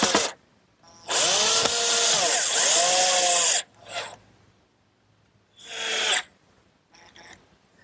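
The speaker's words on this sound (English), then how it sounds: "I take the precaution of pre-drilling so I won't split this nice cedar" A power drill pre-drills cedar for screws, making two long, loud, close whirring runs with shifting pitch, then shorter bursts and brief stops.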